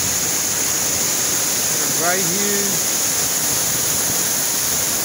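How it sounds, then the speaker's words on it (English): Man-made waterfall in downtown Bellevue, Seattle, a steady, close rushing roar of falling water throughout, with someone speaking briefly over it. "The man-made falls, yo. Just enjoying the sound of it."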